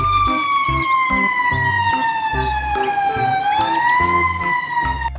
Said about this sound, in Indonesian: Widih, mobil pemadam kebakaran.